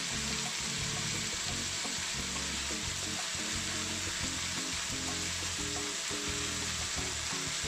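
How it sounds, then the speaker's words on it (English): Steady crackling sizzle of chicken frying in a hot pan for stir-fry spaghetti, continuous and close, with faint bursts of spattering throughout. "as you can hear the sizzling sound, it's now frying"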